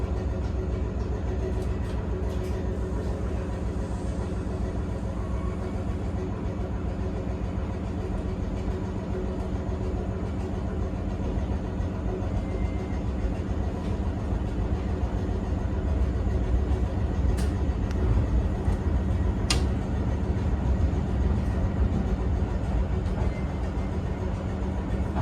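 A Class 455 electric train runs along the line, heard from inside the carriage as a constant low rumble and rolling drone with faint rattles and a few light clicks, with no talking.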